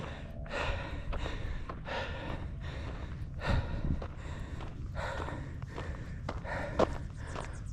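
Heavy, rhythmic breathing of a hiker climbing uphill in West LA, close gasping breaths repeating roughly every second with light footsteps underneath.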